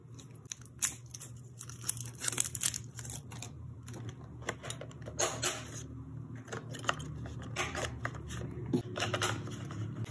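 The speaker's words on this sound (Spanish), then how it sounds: "Vamos a colocarle las baterías." AAA batteries go into a Logitech MK220 wireless keyboard, heard close up as a series of irregular plastic clicks, snaps and rattles from handling the plastic housing and battery compartment, with no talking.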